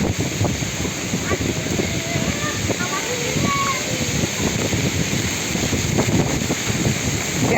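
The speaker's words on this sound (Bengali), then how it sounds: "এদিক অতিরিক্ত বাতাস যে" After Cyclone Remal, loud gusting wind rushes and hisses around a house without pause, with faint voices faintly audible beneath the blustery roar.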